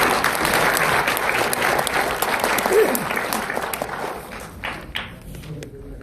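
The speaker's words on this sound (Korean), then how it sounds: "큰 박수로 부탁드리겠습니다" An audience at a talk gives a loud round of applause for a speaker, dense clapping that starts strong, gradually thins and fades toward the end, leaving a few scattered claps.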